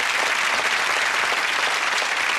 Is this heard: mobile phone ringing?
no